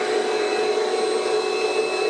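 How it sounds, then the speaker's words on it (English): A vacuum cleaner runs steadily and loudly throughout, drawing power from a BLUETTI EP800 battery system, its constant whining motor drone unbroken and with no talking over it. "turn on the vacuum"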